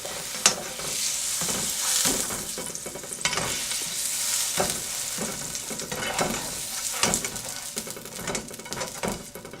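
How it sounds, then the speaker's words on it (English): Butter sizzles and crackles steadily in a hot pancake pan, a dense close frying hiss with scattered sharp pops and scraping stir sounds throughout, no voices. "put it in the pan, and make sure to spread it around while it's heating up on the pan before it completely melts"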